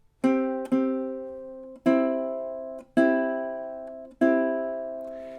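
Ukulele strumming measure 12 of the Jamaican folk song Day-O (The Banana Boat Song), five bright chords in a steady pattern, each ringing out and decaying, played alone at close range.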